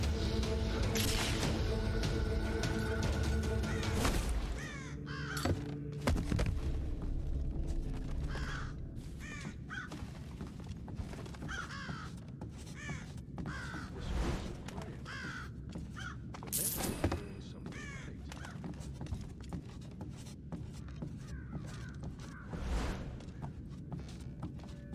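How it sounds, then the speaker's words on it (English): Crows caw repeatedly in a cold night scene in the video game Thief (2014), harsh calls scattered over a low ambient hum, with a loud mechanical clatter at the start and occasional soft footsteps. "God damn, I hate these birds."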